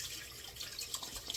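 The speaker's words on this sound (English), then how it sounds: "I know you guys don't like when I run the water" A bathroom tap runs during a head shave, a faint steady hiss of flowing water with soft splashing, alone and quiet throughout.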